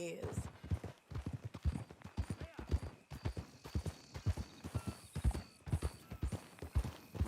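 Rhythmic clip-clop of horse hooves at a steady walking pace in the video game Red Dead Redemption 2, close and distinct, with a brief whinny early on.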